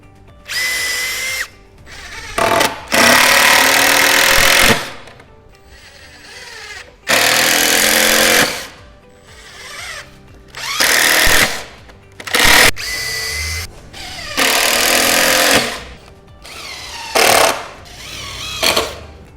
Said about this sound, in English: now what we need to do is put the extra screws in all those joins